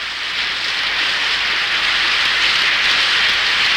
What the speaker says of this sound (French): Et il pleut comme ça tout d'un coup